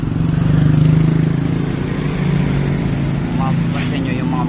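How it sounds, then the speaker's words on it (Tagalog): Motorcycle engines labor uphill on a steep road, giving a continuous loud droning rumble with a faint horn-like tone near the end while someone talks over them. "Mapapansin nyo yung mga motor, hirap din sumalunga dyan"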